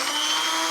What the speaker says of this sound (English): we're just going to use the stick blender, and we're going to grind this thing down